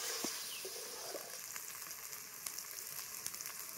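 Masala spice paste fries in hot oil for a meat curry, a continuous hissing sizzle with occasional light taps and scrapes of stirring, close by and without speech.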